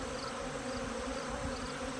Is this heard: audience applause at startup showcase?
no